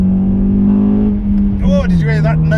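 A car's engine holds a steady droning note while accelerating in second gear around a bend, then the pitch shifts and wavers as the revs change, loud and close from inside the cabin.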